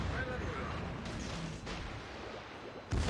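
Armor-piercing shells strike a warship in a naval combat video game, giving a series of muffled booming impacts under a continuous low rumble, with a sharper hit near the end.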